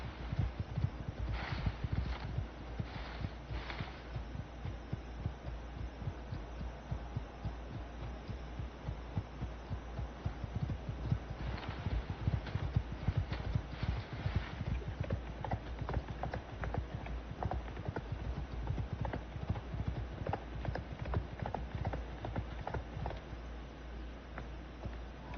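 Horse hooves clip-clop steadily in the video game Icarus, a continuous rhythmic trot of dull thuds kept close and moderately loud for the whole stretch over a low hum.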